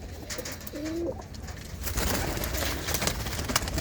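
Pigeons kept by a Punjabi fancier coo softly in a loft, a low repeated murmur under a steady background hiss, with no voices.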